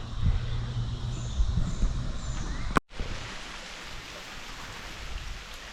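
Rain falls as a steady hiss on surfaces at a building site, with a sharp cut partway through, after which the pattering continues more evenly and slightly softer.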